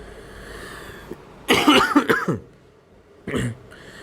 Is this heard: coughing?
yes